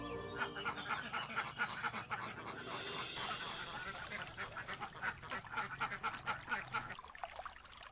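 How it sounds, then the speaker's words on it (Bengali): A cartoon duck on a river sandbank quacks in quick, repeated bursts, loud and close, with a brief rushing noise midway and a quieter tail at the end. "প্যাক প্যাক আওয়াজ তুলে পাখিটা যেন ভয় পেয়ে ঝোপে উড়ে না যায়"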